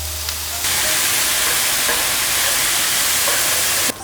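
Button mushrooms and onions frying in a pan with salt and pepper, a loud steady sizzle that starts abruptly and holds evenly, then drops off at the end, with no talking.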